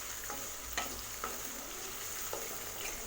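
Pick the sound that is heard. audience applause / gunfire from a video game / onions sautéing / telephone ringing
onions sautéing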